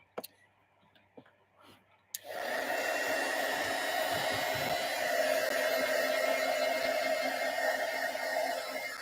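Heat tool running steadily at close range while gesso dries on a mixed-media craft layout, a continuous loud blowing whir that starts abruptly after a few soft clicks and handling sounds.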